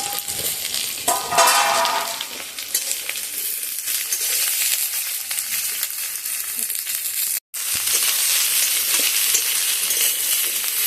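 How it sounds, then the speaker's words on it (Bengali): Chopped onion, chili, ginger and garlic fry in a pan for a spicy boneless meat dish, a steady close hiss and crackle of oil with a brief scrape of stirring and a momentary cut. "এই যে পেঁয়াজ কুচি, লঙ্কা কুচি, আদা কুচি, রসুন কুচি সেটাও ভাজা হয়ে যাবে"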